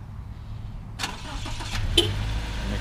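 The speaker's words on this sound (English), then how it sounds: "engine remote start. You just push this button twice." A 2014 Subaru Legacy 2.5i Limited AWD sedan's engine starts via remote start: a low idle hum, then a sharp click and crank as it catches and settles into a steady idle.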